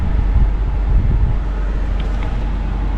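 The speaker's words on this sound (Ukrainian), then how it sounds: "Підключили кондиціонер, щоб ви зрозуміли як воно в салоні. О, так воно дує." A car air conditioner blows steadily inside the vehicle cabin, a constant broadband whoosh with low rumble that holds level throughout and has no talking over it.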